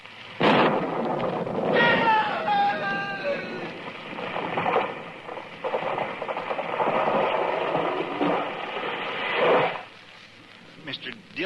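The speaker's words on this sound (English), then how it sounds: "It was lightning. It struck the tree." A lightning strike hits a tree in an old-West radio drama setting, followed by long, loud rumbling thunder that rolls on for about ten seconds with sharp cracks at the start, with a brief voice-like burst early on.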